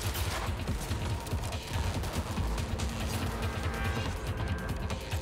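Rapid machine gun fire in the shooter Cyberpunk 2077, loud, dense bursts of shots with clanking mechanical and crashing effects running continuously throughout.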